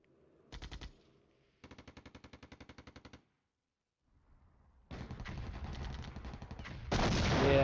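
Harassing fire against a column in the Flashpoint Campaigns wargame: two loud bursts of rapid automatic gunfire, the second a long even rattle, then a pause before a denser sustained roar of mixed firing that swells louder at the end.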